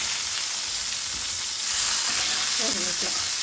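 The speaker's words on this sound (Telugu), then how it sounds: "ఒక పక్కనే ఫిష్ ఫ్రై చేస్తున్నాము" Fish frying in a pan for a Sunday goat mutton dum biryani meal, a steady loud broadband sizzle of hot oil running throughout with a few soft scraping stirs near the end.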